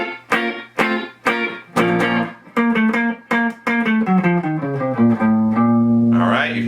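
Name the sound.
guitar playing harmonic minor in classical cadential style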